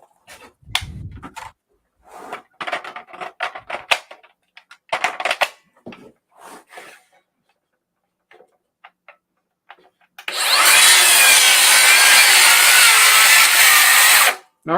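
Cordless power saw running on a Makita battery cuts through wood in one steady, loud, continuous burst near the end, after a stretch of scattered knocks, clicks and handling sounds.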